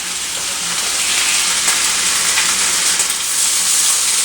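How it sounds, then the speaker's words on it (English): Bacon fries in a little oil in a pan, rendering its fat with a loud, steady, dense sizzle that holds evenly throughout. "we're going to render the oil out of the bacon"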